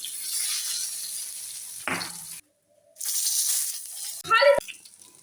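Eggplant fries in hot oil for a thin pabda fish curry, a steady close sizzle broken by a short silent gap, with scraping stirs and a few metal clinks near the end.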